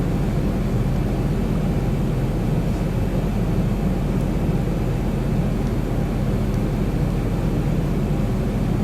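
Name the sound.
airplane landing approach in video game X-Plane 11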